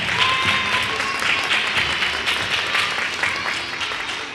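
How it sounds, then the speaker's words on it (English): An audience at a school class presentation applauding, steady dense clapping from many hands throughout, fairly loud and close, with faint voices mixed in. "Let's give them a round of applause."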